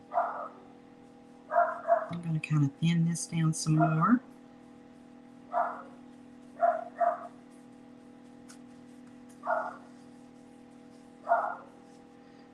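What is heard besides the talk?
small dog barking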